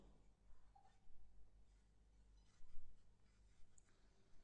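Handwritten Urdu letters being formed with a pen on paper in a quiet room, a faint dry scratching that comes in short strokes and pauses, soft and close.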